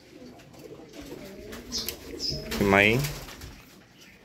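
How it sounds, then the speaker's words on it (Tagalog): A lost pigeon coos close by, a short throaty call rising and falling, with a person talking around it. "kung nawala yung kalapati mo, nandito siya"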